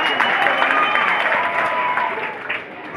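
Audience at a live stage comedy show applauds with dense, steady clapping throughout, loud and close, easing slightly near the end.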